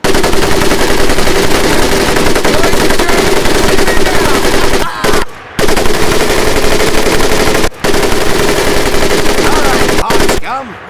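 Sustained machine-gun fire in the video game Medal of Honor: Pacific Assault, a loud, continuous rapid stream of shots with two short pauses, close and dominant throughout.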